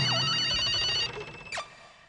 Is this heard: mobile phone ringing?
yes